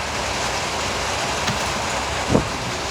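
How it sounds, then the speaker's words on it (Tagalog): Heavy rain pouring steadily, a dense continuous hiss with a faint low rumble, plus a couple of brief knocks near the end, fairly loud and close. "Gusto ko talaga maligo ng ulan. Ang lakas eh."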